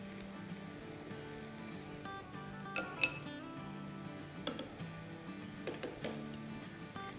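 Pakoras frying in a pan of oil, a soft steady sizzle at low level with a few light clinks of utensils against the pan, no talking.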